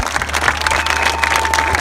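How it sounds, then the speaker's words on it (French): An audience applauds at a Trophée Roses des Sables 2017 desert rally gathering, with dense, steady clapping that holds at an even level throughout. "moi je vous propose de vous applaudir"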